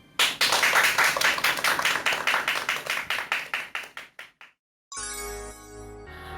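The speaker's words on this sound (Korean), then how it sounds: "강연 박수로 청해 듣도록 하겠습니다" Lecture-hall audience applauding for several seconds, a dense patter of claps thinning into scattered slower claps, followed after a brief silence by a bright chiming musical sting.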